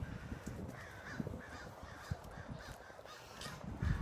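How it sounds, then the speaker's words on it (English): Several crows caw from near a tree in an outdoor bird haunt, repeated harsh calls spaced through the moment over a soft ambient background, no talking. "you can hear the crows"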